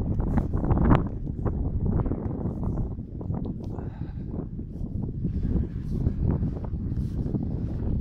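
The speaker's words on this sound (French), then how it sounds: "il y a trop de vent." Loud wind blasts across the microphone outdoors at St Donat in dense, rough gusts, a constant low roar with no clear voice above it.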